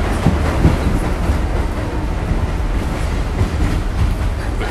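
Train rolling along the Bronx River line in the Bronx, a steady loud rumble with rhythmic clickety-clack of wheels over rail joints, heard from inside the car with no talking.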